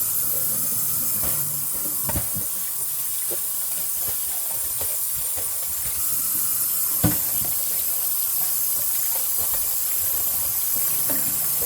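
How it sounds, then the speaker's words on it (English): Tap water runs steadily into a kitchen sink as goat meat is rinsed, a continuous hissing splash with occasional knocks and clinks from handling, fairly faint and without speech. "go ahead and drain and rinse with clean water"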